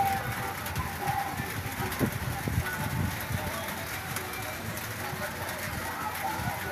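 Rain falls on a crowded outdoor gathering during a relief handout, a steady patter mixed with dense crowd murmur and footsteps, with people talking throughout.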